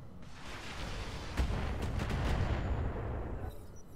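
Mech weapons fire on a turret in the video game Roguetech, a rumbling roll of shots with a sharp blast near the middle and several quick cracks after it, easing off toward the end.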